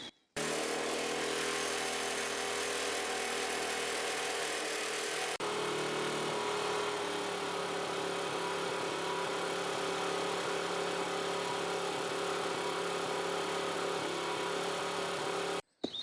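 An engine on a wood gasifier, drawing air directly without filters, runs loud and steady throughout, with a harsh intake roar and a slight shift in pitch partway through.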